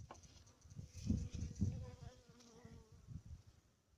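Honeybees buzz around opened hives in an apiary, a close, dense drone that swells and fades as individual bees pass near, steady throughout without talk.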